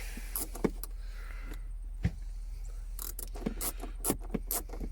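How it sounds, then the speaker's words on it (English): A short shifter being worked through the gears in a parked Ford Falcon XR6/XR8: a few soft mechanical clicks and clunks, with one sharper knock, over a low steady cabin hum, close and fairly quiet, with no voices. "Go into second gear."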